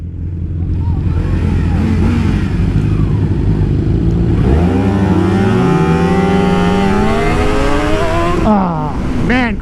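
A slow motorcycle run at wide open throttle, its engine droning loud and steady, then rising in pitch as it accelerates and climbs harmonically before a brief drop and rev near the end.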